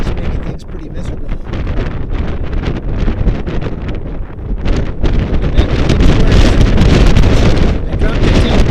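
Strong mountain wind on Mount Hood at about 30 miles an hour buffets the microphone in a steady, roaring rush that gusts harder toward the end, loud throughout with no voices.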